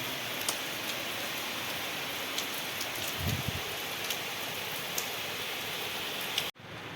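Heavy rain pours steadily, a dense close hiss with scattered drop hits, running unbroken until it cuts off abruptly near the end.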